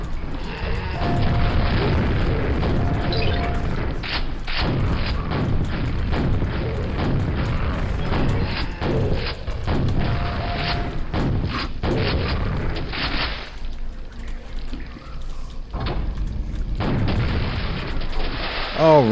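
Loud game audio from the PC shooter Quake, Episode 5: Dimension of the Past: repeated booming explosions and gunfire bursts, dense and continuous with heavy low-end impacts, under a voice talking throughout.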